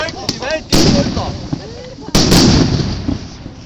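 New Year's Eve fireworks in Schkeuditz near Leipzig burst in two loud, close booms amid scattered crackles and pops, with people talking and shouting in between.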